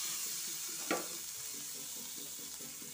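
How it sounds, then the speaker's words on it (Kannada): Steady frying sizzle from a pan of coconut oil and fish oil as Balliar fish is roasted for a dry chutney, with a continuous hiss under soft stirring scrapes and one brief knock. "ಸ್ವಲ್ಪ ಎಣ್ಣೆ ಹಾಕಿ ಚೆನ್ನಾಗಿ ಹುರ್ಕೊಳ್ಬೇಕು ಕೆಂಪಾಗುವವರೆಗೆ"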